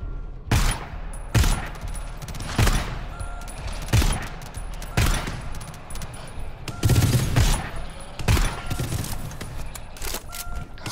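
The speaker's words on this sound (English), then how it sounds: "It's gonna be fine if it didn't shoot 5 bullets at a time, man." Gunfire in the sci-fi shooter game GTFO comes as repeated loud bursts of shots spaced a second or two apart, with a low background hum and some speech between volleys.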